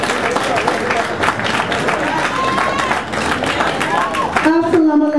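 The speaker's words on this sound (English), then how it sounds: "please, let's give her a round of applause" Crowd applause and cheering for a councilwoman at a Juneteenth heritage celebration, steady clapping mixed with crowd voices, with a person speaking over it at the end.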